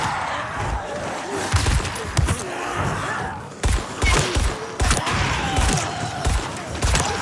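Gunfire rattles through Dying Light 2 gameplay in loud repeated bursts and single shots, mixed with groans of infected and dense combat noise.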